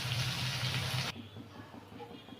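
Water splashes and runs briskly as a kadai (wok) is washed in a village kitchen, loud and close for about a second, then drops to a faint trickle and drips.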